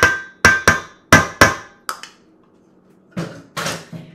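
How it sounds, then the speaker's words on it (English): Canned pumpkin being scooped from a can, with several sharp metallic scrapes and knocks of a utensil against the tin in quick bursts, then softer scraping. "scoop that out"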